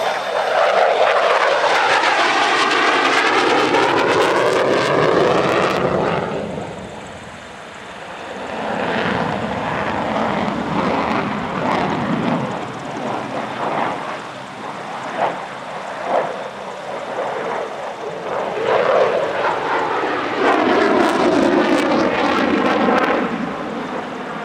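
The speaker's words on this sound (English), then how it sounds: "This is one of the most aggressive F-16 displays on the circuit." Belgian F-16AM Fighting Falcon fighter jet flying an aggressive high-G display at the Radom Air Show, a loud roaring jet engine rising and falling as it passes close overhead, with sweeping tones and no voices.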